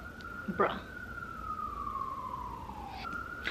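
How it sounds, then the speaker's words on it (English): A siren wails and sweeps in pitch at a distance, faint against background hum, with a brief muffled voice early on. "there's been so many sirens in like 11 minutes"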